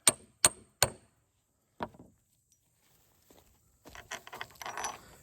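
Three sharp metallic hammer blows on a spike driven into a log deck, then a fourth after a pause, followed by softer scraping and knocking nearby; no talk.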